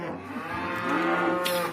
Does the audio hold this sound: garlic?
no